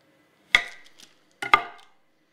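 Knife slicing through rolled spiral cookie dough for Thermomix spiral cookies, two crisp close cuts about a second apart, each trailing off quickly, with no voices.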